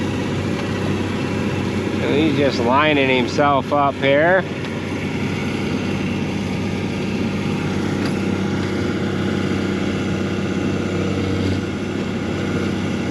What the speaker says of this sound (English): The only problem with that tractor is turning the PTO on.